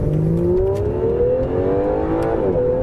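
A 2017 Aston Martin Vanquish S engine pulls steadily at part throttle, its pitch climbing smoothly as it accelerates, loud and continuous from start to finish with no voices over it.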